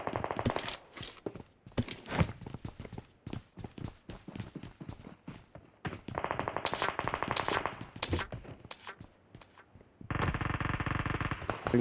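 Shotgun fire in a PUBG Mobile classic match, a rapid string of sharp blasts and bursts under distant game noise, with no talking.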